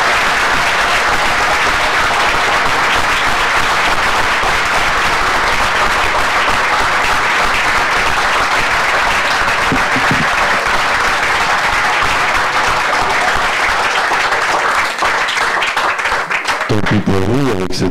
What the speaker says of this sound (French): Avec cette salve d'applaudissements